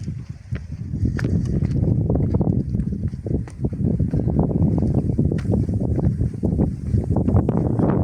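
Wind buffets the microphone in strong, uneven gusts at a cliff edge in the Valley of Desolation, Graaff-Reinet, rumbling low and loud and rising and falling over several seconds.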